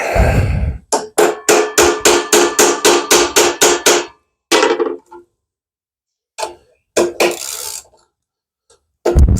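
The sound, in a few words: hammering a socket onto a bolt head on undercarriage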